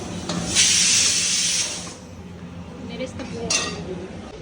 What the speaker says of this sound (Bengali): আমার প্রেশার কুকার এখানে সেটি কাজে শুরু করে দিয়েছে এখানে আমি ডিম সেদ্ধ করতে দিয়েছি